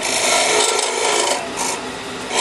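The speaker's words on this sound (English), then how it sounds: "While I'm hollowing, I can feel that 1/8 socket down in the bottom of the piece." A wooden birdhouse piece being hollowed out, a continuous loud rasping and scraping of the tool against wood, close up, with no talking.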